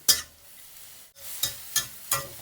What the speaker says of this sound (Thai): ทีนี้ก็เร่งไฟแรง ผัดให้กระหล่ำกับแครอทนิ่มนิดนึง